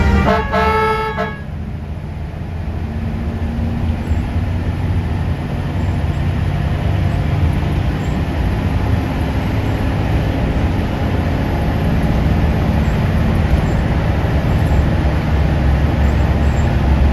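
Loud roaring engine and road noise from a fast-moving bus racing another bus, steady and close, with a brief horn toot at the start.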